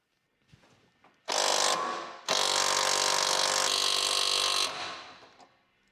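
An impact wrench runs on the rear shock absorber bolts of a Fiat 500, with a loud close mechanical whirr in two long bursts separated by a short pause.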